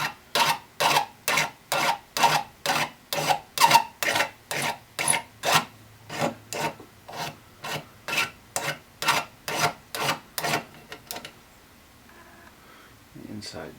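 A hand file deburrs sharp metal edges on a printing press motor part in a garage, producing about twenty steady, evenly spaced rasping strokes close up before stopping.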